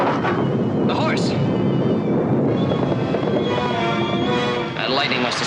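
Rolling thunder rumbles loud and close through a storm on a Western ranch, a dense continuous roar with sharp swells, while a voice speaks over it.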